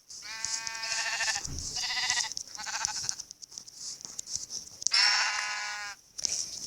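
Several sheep bleat in Minecraft survival mode, repeated bleats coming in short bursts with gaps between them, moderately loud and clear over the quiet game ambience, with no talking.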